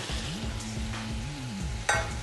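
Onion goes into a wok of stir-fried Kung Pao chicken with peanuts, Sichuan peppercorn, hot sauce and chili. A steady close sizzle is broken by a few stirring scrapes and one sharp clatter near the end.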